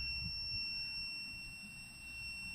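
A kitchen smoke alarm built on an Arduino Uno emits a steady, piercing electronic tone. It drones continuously and faintly over a low background hum.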